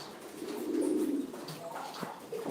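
Desi gulla pigeons cooing at a fancy pigeon farm in Sylhet, a steady, fairly close low coo that swells in the middle, with a few faint chirps and background noise.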